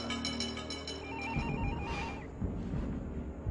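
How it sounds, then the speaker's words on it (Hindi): A telephone bell rings in repeated bursts, then stops as background noise and movement continue. "ओ यार शाहजी, देखो यार किसका फोन है?"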